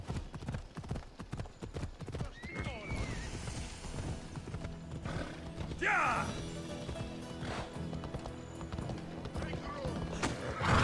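Horse hooves clip-clopping in the video game Assassin's Creed Odyssey, a steady rhythmic trot under game music and ambience, with a brief whinny and some mechanical clatter partway through.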